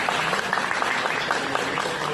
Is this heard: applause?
yes